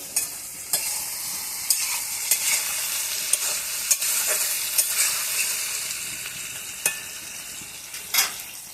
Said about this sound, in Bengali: শিমগুলো আমি একটু হালকাভাবে ভেজে নিই।